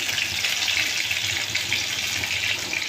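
Chili pakoras, slit green chilies stuffed with spice and dipped in gram flour batter, frying in hot oil with a steady, close, unbroken sizzle that holds from start to finish, no voices present.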